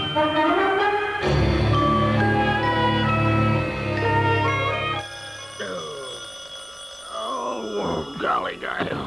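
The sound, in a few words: telephone ringing in radio drama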